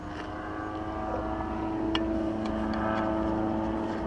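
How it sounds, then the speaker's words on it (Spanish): A small light aircraft's engine drones steadily overhead at a moderate distance, a continuous buzzing hum without talk. "Es un microhelicóptero, no es un helicóptero en sí."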